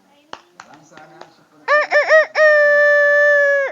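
A storyteller imitates a rooster crowing, with a few choppy rising calls ending in one long drawn-out crow, loud and close, after some light clicks.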